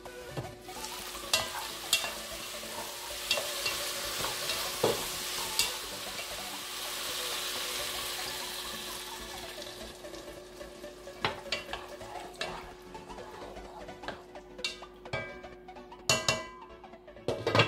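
A spoon stirs rice and meat cooking in tomato in a pot, with steady sizzling and scraping near the start, then sparser clicks and taps against the pot as the stirring slows.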